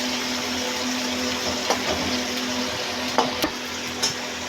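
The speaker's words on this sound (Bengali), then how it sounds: "পেঁয়াজগুলো একটু ভাজা হতে দিতে হবে।" Continuous sizzle of onions frying for an aloo katla fish curry, with several scraping stirs in the pan, the last few sharper and closer together, no talking.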